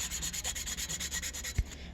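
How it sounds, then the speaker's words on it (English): Fine sandpaper rubs over the cork on a saxophone neck in quick, even back-and-forth strokes, a close, soft rasping rhythm with a small knock near the end. "Now is when I'm going to wrap around the sandpaper a little bit more"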